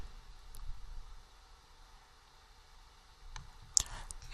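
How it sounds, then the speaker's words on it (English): Computer mouse clicks, a few sharp, faint ticks scattered over quiet room noise, with a small cluster of clicks near the end. "So you just click on it."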